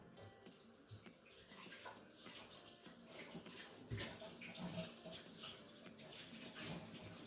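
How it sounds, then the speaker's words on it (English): Water runs steadily from a tap as dirt from onion planting soil is rinsed off hands, a continuous near splashing wash with small surges and spatters. "Rinse a little dirt off your hands."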